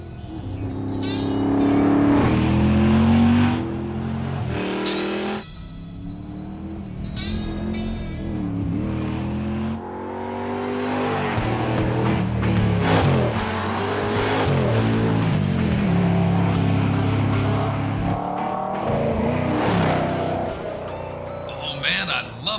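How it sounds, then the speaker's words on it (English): Drag racing car engine with Flowmaster Super 40 mufflers at the ADRL drags at South Georgia Motorsports Park, loud revving surges and roaring passes that rise and fall repeatedly, with an announcer talking over them. "Flowmaster Super 40 Mufflers, the sound of great American performance"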